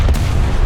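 A 152 mm cannon on the Object 292 tank fires in a video game, one short loud booming blast with heavy low rumble that fills the brief moment.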